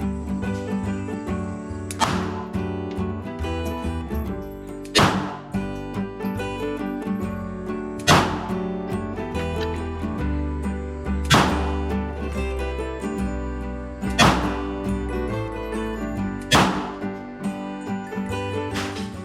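.380 ACP pistol rounds strike targets in a slow, evenly spaced series of about seven sharp, loud impacts roughly every three seconds, over a steady tonal background.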